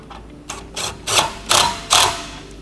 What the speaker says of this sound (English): Give it a good extra couple cranks